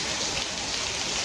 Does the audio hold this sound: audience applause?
no